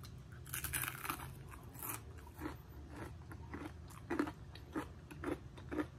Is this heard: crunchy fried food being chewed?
yes